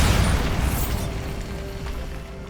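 Bombarda spell blast from Hogwarts Legacy: a loud, booming explosion that opens strong and trails into a long rumbling decay, alone with no talk.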